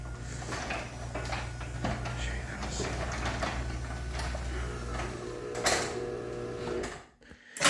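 A LiftMaster garage door opener runs the door down, giving a steady mechanical hum with rattles and creaks close by, before a short pause and a clunk at the end.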